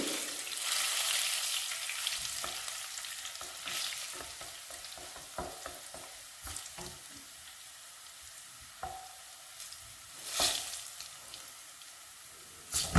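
Garlic cloves sizzling in a hot pan, frying down for a spice condiment: continuous close hiss and crackle broken by sharp spatula scrapes and clinks against the pan, with no talking.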